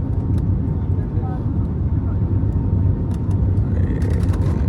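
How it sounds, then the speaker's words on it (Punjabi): A passenger airplane touches down at Delhi airport, heard from inside the cabin as a loud, steady low engine and rolling roar, with people talking over it. "ਜਹਾਜ਼ ਗਏ ਉਤਰ ਇਹ ਇਹ ਬਸ ਟਾਇਰ ਲੱਗਣੀ ਵਾਲੇ ਆ"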